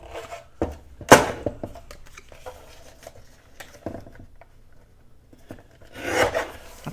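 Scissors trimming paper scraps for page tags give scattered short snips and rustles of paper, with a few louder cuts and a longer rasping stretch near the end, close by and without speech.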